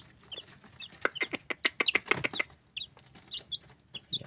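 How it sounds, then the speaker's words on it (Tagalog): Young chicks eat wet feed, with rapid close pecking taps clustered in a busy burst and small high cheeps scattered throughout, fairly quiet. "Kumakain na po ang ating mga alagang sisiw dito."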